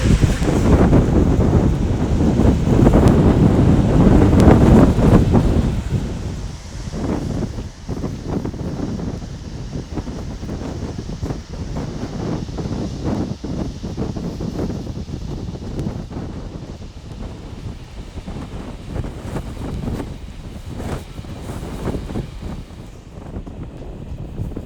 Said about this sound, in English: it was just too windy and the camera was flopping around